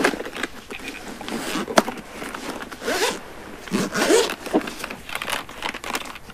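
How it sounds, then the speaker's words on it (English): A zipper closes around a DJI Spark drone carrying case in several close, crisp pulls, with some crinkling of the case material and no talking. "So once it's all zipped up here"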